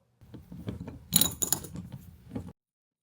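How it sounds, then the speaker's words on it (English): A tool works bolts loose from under the rear bumper of a Tesla Model 3, producing a short, close burst of ratcheting mechanical clicks and rattles lasting about two seconds. "So now I'm going to remove the bolts under here again"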